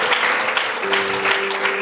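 A church congregation applauds in a steady, dense wash of clapping that fills the room, loud and continuous for a couple of seconds, with a faint sustained tone underneath.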